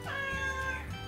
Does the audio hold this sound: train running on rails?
no